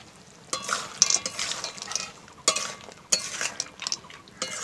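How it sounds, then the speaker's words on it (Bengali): Fried lentil dumplings tipped into a nearly dried Bengali sukto vegetable curry and stirred, with a few sharp spoon-against-pan clinks over soft scraping and a faint sizzle, close by and without talk. "তো দেখো ভেজে রাখা বড়িগুলো দিয়ে দিচ্ছি।"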